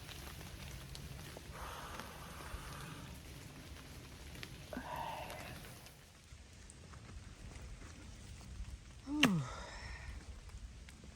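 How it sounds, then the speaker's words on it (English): Light rain patters steadily on the Appalachian Trail, a soft, even hiss of drops around a hiker with faint scattered taps and a brief sharp sound near the end. "It's raining on and off, but not too hard."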